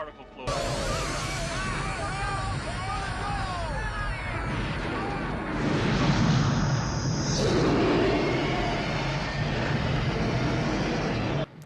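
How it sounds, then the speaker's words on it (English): A large cinematic explosion of a miniature in the 1984 film Ghostbusters booms and rumbles over a dense, roaring soundtrack with swirling tones and a sustained rushing blast. "It's a pretty cool explosion."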